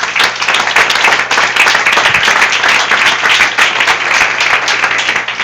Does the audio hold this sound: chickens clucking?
no